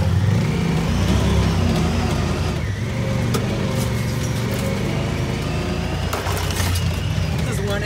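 A Kawasaki KLX 110 pit bike on an endurocross trials course, its small engine droning and revving continuously up close, with a voice talking over it.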